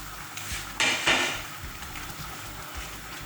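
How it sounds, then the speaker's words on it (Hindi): Fried eggplant pieces for bagara baingan tipped into a cooking pot, giving a couple of brief clattering knocks and scrapes against the metal, close and clear, with no talking. "बैंगन फ्राई किए थे मैं वो डाल दूंगी"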